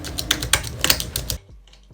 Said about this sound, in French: j'ai vraiment fait exprès de taper sur mon clavier